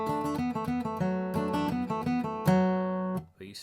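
Acoustic guitar playing a melody on its second pass, a quick run of picked single notes and chord strums, close and bright, ending on a sustained chord that fades out.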